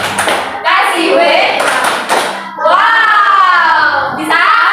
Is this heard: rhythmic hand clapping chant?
yes